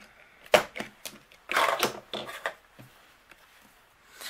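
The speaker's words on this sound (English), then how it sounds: "I'm going to bring in my corner rounder and we are going to just round both of these corners" A hand-held corner rounder punch cutting rounded corners on patterned paper: a few close, sharp clicks and crunchy snips with short papery rustles between them, in a quiet room with no talking.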